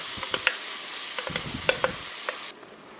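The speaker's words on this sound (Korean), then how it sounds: "이제 여기에다가 이 토마토를 넣어줍니다" Fresh tomatoes go into a hot frying pan with shrimp for tomato shrimp spaghetti, sizzling steadily while a utensil scrapes and taps in several quick, close stirring strokes; no one speaks.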